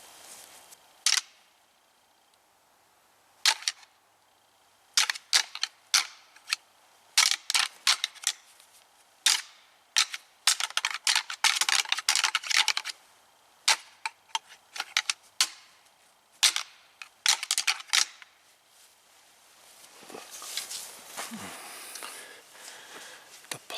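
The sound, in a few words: antler rattling racks clacking for buck rattling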